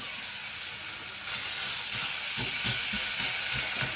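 Onions fry in a tablespoon of peanut oil in a hot pan, giving a steady close sizzle with faint stirring scrapes and no talk.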